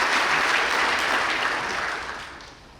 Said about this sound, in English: Please join us in another round of applause for the 2025 Ivy Day Awards recipients